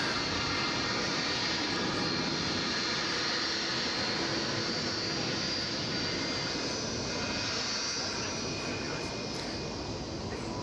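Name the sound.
jet aircraft at DFW Airport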